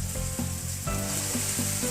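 Chopped vegetables sizzle loudly in a frying pan while being stirred, the steady hiss punctuated by regular scraping strokes.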